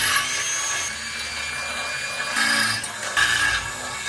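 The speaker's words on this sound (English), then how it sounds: "let's get those holes drilled." A power drill bores holes in custom steel bumper brackets for a '57 Chevy truck, a steady high whine with louder bursts as the bit bites, close and continuous without talk.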